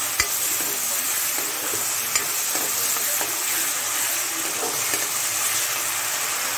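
Khar vegetable curry cooks down in a wok as the water dries off, with a steady soft sizzle and occasional scraping stirs of a utensil, close and continuous with no talking.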